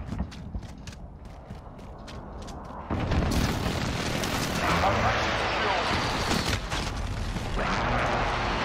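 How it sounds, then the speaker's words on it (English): Call of Duty Modern Warfare gameplay with a precision airstrike: a sudden loud blast partway in gives way to sustained heavy rumbling explosions and debris noise over scattered quieter game sounds before it. "Be advised, friendly precision airstrike inbound."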